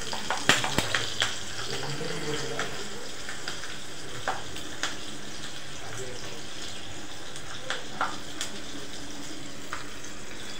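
Asafoetida, mustard seeds and green chillies sizzle in hot oil as a tempering for spongy khaman dhokla, a steady crackling hiss broken by sharp pops, especially near the start.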